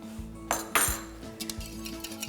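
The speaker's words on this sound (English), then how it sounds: "whisking the wet ingredients" Wet ingredients including lemon juice and vanilla extract whisked in a bowl for a baking recipe: quick metallic clinks and taps against the bowl, close and fairly quiet, a short burst.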